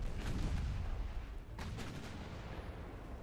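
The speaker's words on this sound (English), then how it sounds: "one torpedo and 2 explosions" Muffled, distant booms from torpedo hits and explosions in the naval warfare game Ultimate Admiral Dreadnoughts, two or three dull thuds over a steady rumbling background, with no talk.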